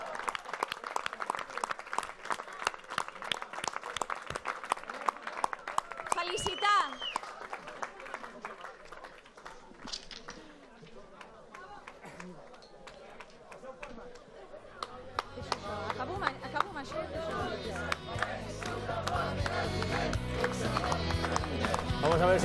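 Sustained applause and cheering from party members at an election-night headquarters, dense clapping that carries on throughout, with a reporter talking over it and the crowd noise swelling again toward the end.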